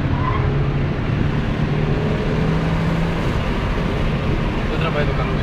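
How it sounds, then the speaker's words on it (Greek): A Nissan Almera engine hums steadily while driving, with continuous tyre roar on the road, heard from inside the car. "Ακούμε τα λάστιχα όμως, τουλάχιστον ο ήχος μετράει. Ακούγεται και ο κινητήρας."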